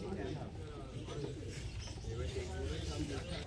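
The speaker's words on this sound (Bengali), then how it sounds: "তো এই দুটো রেসার পায়রা লালজিরিয়া" Lal jiria racing pigeons coo softly in a low, continuous rumbling murmur, quiet and close, with faint chirps and a voice partly mixed in.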